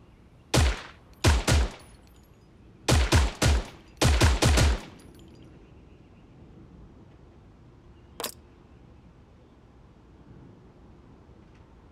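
Gunfire in the video game Creative Destruction comes in several rapid bursts of sharp shots early on, followed by quiet and then one lone crack.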